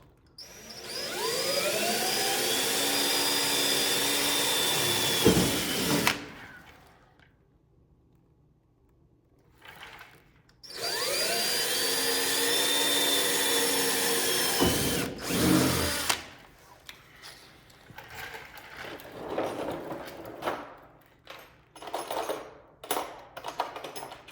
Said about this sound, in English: Go ahead and drill my holes.